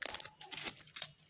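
A plastic bag crinkles and rustles in short close bursts as fish, sardines and sea fish, are bagged for the fridge in a kitchen, soft and brief with no talk.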